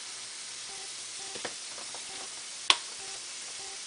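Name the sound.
ground beef sizzling while browning in a pan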